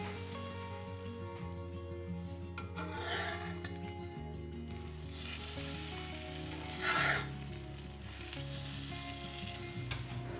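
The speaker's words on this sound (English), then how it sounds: "Dip the bread slices well in the mixture and fry." Egg-dipped bread slices fry in a pan with a steady, close sizzle that carries on throughout, broken by a few faint clinks of a utensil.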